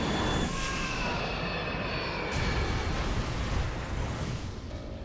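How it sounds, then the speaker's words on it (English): A Boeing 727 jet airliner dives toward the ground over San Diego. A loud, continuous roar of jet engines fills the whole stretch, with rushing, rumbling noise that swells and shifts without pause. "A Boeing 727 is headed for the ground."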